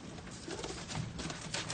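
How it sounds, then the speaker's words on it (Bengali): A pigeon coos softly amid faint background noise in a brief, quiet burst. "এই যে একটা হ্যাঁ কবুতর"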